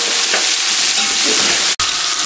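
Mutton and onions frying on high flame for pulao, a loud, dense, continuous sizzle with faint stirring, cut by a brief dropout just before the end.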